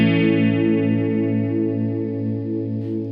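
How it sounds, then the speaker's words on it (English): Electric guitar chord run through a Boss CE-3 chorus pedal in its full chorus mode, a single sustained shimmering chord with slow wavering modulation, steady and close, played alone. "It's the full chorus effect, just like the CE-2."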